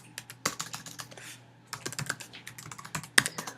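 Quick bursts of computer keyboard typing as a password is entered, clicky keystrokes in uneven runs with a brief pause midway, close and fairly quiet with no talking.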